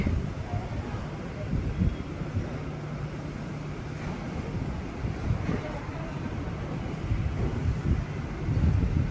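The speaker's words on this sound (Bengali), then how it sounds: "চতুর্দিকের গাছপালা নড়ছে, দেখতে পাচ্ছেন দমকা হাওয়া" Gusty wind of a Kalbaishakhi storm blowing through trees, a broad continuous rush with buffeting gusts hitting the microphone, steady and fairly loud, with no clear talk.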